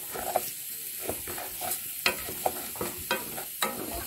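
Rice with garlic frying in a pan on a wood stove in a rural kitchen, a steady sizzle broken by repeated scraping stirs at irregular intervals, close and moderately loud with no talk.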